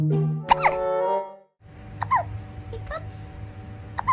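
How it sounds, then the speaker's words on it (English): A cat hiccups in a few short, sharp bursts spaced about a second apart, close by. A voice briefly sounds at the start. "Do you have the hiccups?"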